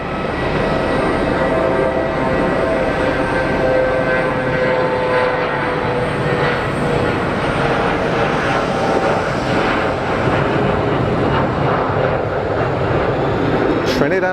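A Lufthansa Regional airliner makes an intersection departure from Geneva Airport, its engines roaring loud and steady throughout with a broad, sustained whine.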